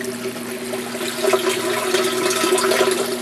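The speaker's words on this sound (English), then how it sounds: "So it's draining out of the barrel, which is right up there." Water drains steadily out of a raised aquaponics barrel into the grow bed system below, a continuous rushing, gurgling flow with a low hum beneath it and no voices.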